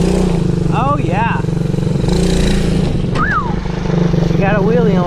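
A kids' ATV engine drones and revs loudly during a wheelie, close by and continuous, with people's voices calling out over it.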